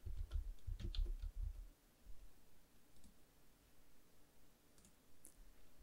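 A few quick computer mouse clicks close up at the start, then quiet room noise with a couple of faint clicks later on.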